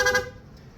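A rapid PIA aftermarket horn on a Yamaha Mio Gear scooter gives one short bright honk up close, loud for a fraction of a second and then cut off into low background noise.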